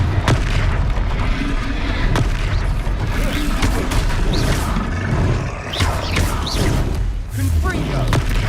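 Confringo blasting spells detonating during a Hogwarts Legacy fight, repeated heavy booms and thuds over continuous battle noise, with voices shouting in between.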